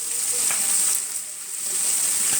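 Mustard chicken pieces frying over high heat give a steady, close, bright sizzle with faint crackles, a brief dip in loudness midway, and no talking.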